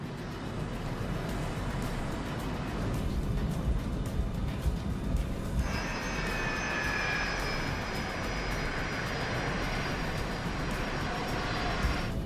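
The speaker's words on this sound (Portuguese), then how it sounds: "Hoje, eles estão pilotando um jato Bai 146, de construção britânica. Com motores silenciosos" A British-built BAe 146 jet airliner with quiet engines in flight, a steady broad cabin roar that holds throughout, with a thin whine rising partway through.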